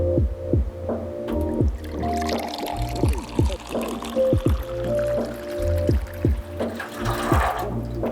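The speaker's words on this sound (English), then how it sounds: "I can always add a little more water or more vinegar if I need to fill it up just a little bit higher" Water, vinegar and dye pour into a tray for dyeing a Onewheel Kush foot pad, giving close splashy trickles and a series of quick, plinking drips that come and go in uneven bursts.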